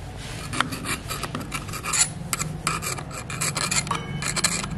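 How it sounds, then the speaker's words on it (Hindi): Brush scrubbing paint off a bike brake caliper, a steady dry rasping scrape that repeats in short uneven strokes, close and moderately loud with no voices. "या तो आप कोई भी ब्रश यूज़ कर सकते हो इसमें पेंट रिमूव करने के लिए"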